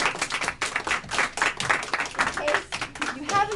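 Audience at a school board meeting applauding a consultant invited to the front, a lively round of clapping with voices speaking over it.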